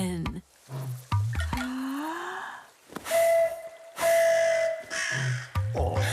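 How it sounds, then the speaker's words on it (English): A cartoon crow caws in a string of short, harsh calls with brief gaps between them, heard up close alongside other cartoon sound effects. "Nice. A crow."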